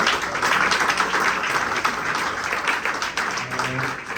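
A church congregation applauds in steady, dense clapping that fills the room, loud and sustained, with faint voices under it.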